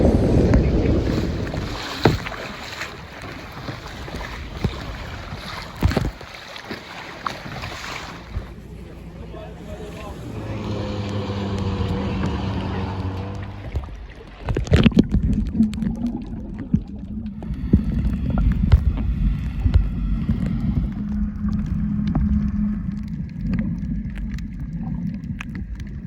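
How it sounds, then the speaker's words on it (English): Kayaking on open sea off St. Kitts, with steady wind and water wash around the boat, paddle splashes and sloshing, and brief voices partway through. "Now we're going to kayak back."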